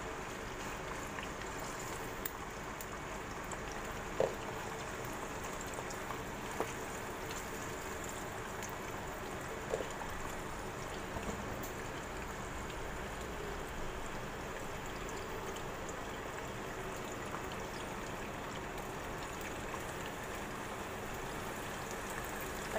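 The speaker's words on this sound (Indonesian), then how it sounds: "sekarang aku mau goreng ati dan ampelanya ya." Chicken liver and gizzards fry in hot oil in a home kitchen, giving a faint, steady sizzle and bubbling throughout with a few small pops. No one speaks.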